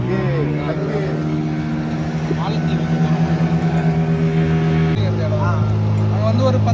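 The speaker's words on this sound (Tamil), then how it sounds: "கோஸ்டல் போட் அங்க பாரு" A coastal motorboat engine drones steadily and close on a mangrove boating trip near Pondicherry. Its harmonic hum and whine hold loud throughout, and the pitch drops noticeably partway through.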